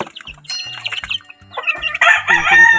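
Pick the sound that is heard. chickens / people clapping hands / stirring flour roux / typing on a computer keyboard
chickens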